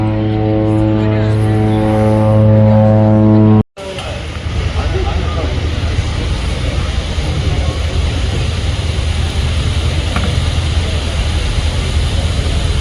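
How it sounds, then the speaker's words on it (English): Seaplane near the Canada Place jetty in Vancouver, a steady propeller-engine drone spread across the clip after a brief break, heard over broad harbour background noise with talk at times. "This is the very place where now this seaplane jetty rests. See, one seaplane is going there."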